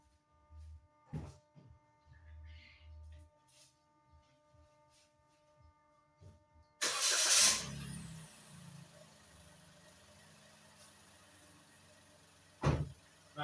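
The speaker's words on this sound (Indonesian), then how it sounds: "Kita coba nyalakan mesinnya." A Toyota Raize engine cranks and starts about halfway through, with a sudden loud burst that settles into a low steady idle. Quieter clicks and interior noises come before it, and a sharp knock follows near the end.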